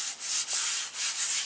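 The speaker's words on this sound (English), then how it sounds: "I done started sanding. I just really gotta just go over the whole spoiler." A cracked fiberglass spoiler on a 1988 G-body Monte Carlo SS being hand-sanded with steady back-and-forth scratchy strokes, close and loud with brief pauses between passes.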